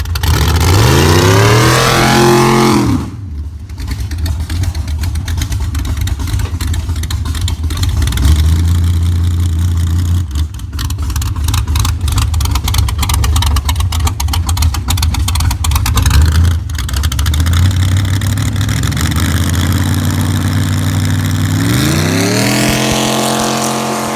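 Chevy S10 truck engine driving down the road, loud and close, revving through repeated rising pitch sweeps as it accelerates and shifts, with sustained throttle and a final climbing rev.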